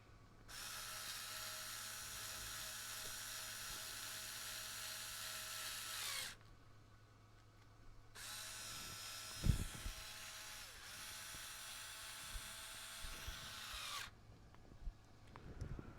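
An electric screwdriver whirs in two steady bursts of about six seconds each while driving screws into an RC truck axle, a high buzzing motor whine with brief handling clicks and a short clunk in the pause between runs.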